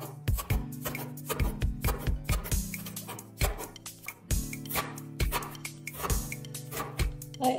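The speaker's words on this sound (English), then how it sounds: "I absolutely hate cutting onions" Onions being chopped with a knife on a board for fried cabbage, mushroom and onion vegetables, a fast run of close, crisp knife strikes in uneven bursts with brief pauses, no talking.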